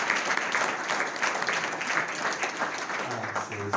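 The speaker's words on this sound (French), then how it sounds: "Vous pouvez les applaudir à nouveau parce que c'est pas facile pour eux." Applause from a ceremony audience for teenage student speakers at a mayor's New Year wishes event, steady dense clapping filling the room throughout, with a low voice starting to speak near the end.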